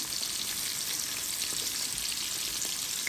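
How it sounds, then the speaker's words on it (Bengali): Hilsa fish frying in plenty of oil gives a steady, dense sizzle with fine crackling throughout, close and even, with no talking. "ইলিশ মাছটা ভাজি করুম"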